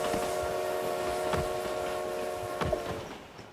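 In a shooter video game, a train passes with a steady, fairly faint tonal hum and rumble that holds throughout, with a few soft thumps and no talking.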